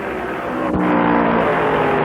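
A 1965 stock car at the American 500 roars past close by, its loud engine surging with a sharp pass at the midpoint and then a sustained high-revving drone, no talk.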